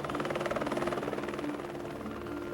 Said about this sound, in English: With little time to lose, Marty immediately contacted St. Anthony's Flight for Life helicopter and Alpine rescue volunteer Mike Everest.